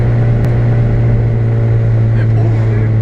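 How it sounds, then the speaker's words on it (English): A Honda car fitted with an Invidia aftermarket exhaust accelerates, a loud steady low exhaust drone filling the cabin, with people talking over it. "Hear the exhaust? It sounds good."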